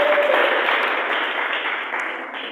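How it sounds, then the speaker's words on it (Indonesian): Church congregation applauding together in a sustained, dense wash of clapping that fades slightly over a couple of seconds, with no voices on top. "Sekali lagi tepuk tangan yang dahsyat buat Tuhan."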